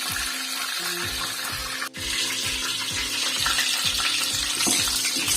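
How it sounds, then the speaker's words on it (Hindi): Whole green chillies frying in oil in a pan, a steady broad sizzle with a faint regular ticking pulse and a brief pop near the middle, continuous and fairly close. "इसको भी हम डाल लेंगे इसी ऑयल में और इन्हें हल्का सा रोस्ट कर लेंगे।"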